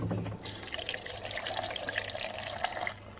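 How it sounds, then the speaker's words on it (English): Water pours into a BMW screen wash reservoir, already holding concentrated screen wash, as a steady close splashing and gurgling stream that runs for about three seconds. "And now I'm just gonna go ahead and fill the rest of it with water."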